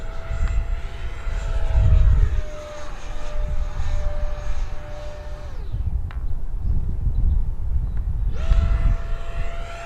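A Marlin 64mm EDF sport RC jet on 4S power whines overhead in a continuous passing drone, its pitch sliding down as it moves away, dropping off, then swelling back in for another pass.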